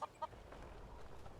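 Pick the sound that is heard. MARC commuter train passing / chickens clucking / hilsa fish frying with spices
chickens clucking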